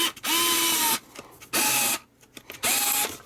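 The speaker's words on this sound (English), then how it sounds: "Let's go setting 1, going in with that screw." A Fanttik NEX L1 PRO electric screwdriver on setting 1 drives a screw into a piece of solid wood, giving three loud, close motor whirs of about half a second to a second each, separated by brief pauses with light handling noise.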